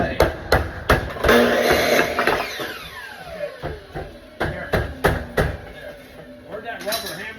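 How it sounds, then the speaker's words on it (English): A rubber mallet strikes a steel fire-rated door frame on a commercial install, landing a dozen or so sharp, loud knocks in uneven bursts, with ringing metal between blows and voices talking in the background. "let me get a rubber mallet and a block of wood"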